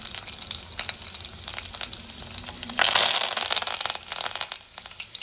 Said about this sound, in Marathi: थोडासा हिंग टाकूया। लसूण टाकूया,